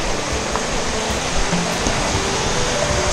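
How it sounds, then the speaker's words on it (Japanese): Nanten waterfall on Toomi-yama in Kawabe, Gifu, Japan: a steady, loud broadband rush of falling water, close and unbroken for the whole stretch with no voices. "南天の滝っていうのかな。"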